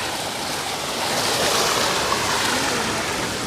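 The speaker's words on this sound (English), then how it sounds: "There's like a cute little waterfall here." A small waterfall at Lake Louise in Banff National Park rushes as a dense, steady roar that fills the whole scene with broadband water noise.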